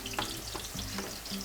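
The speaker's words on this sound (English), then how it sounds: "let's throw in the rest of the eggplant, second batch" Second batch of eggplant frying in a pan for pasta alla Norma, a steady close sizzle with a few brief clinks or stirring knocks over the top, no talking.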